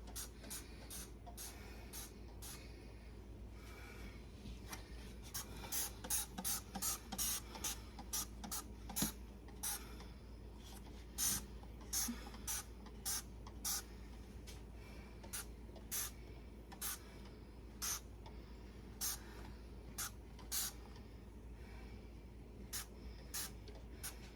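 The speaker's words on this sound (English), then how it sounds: "We're using Dawn Power Wash." Dawn Power Wash cleaner sprayed from a trigger bottle onto a stove front, a long run of short hissing spritzes in quick irregular bursts over a low steady room hum, with no talk.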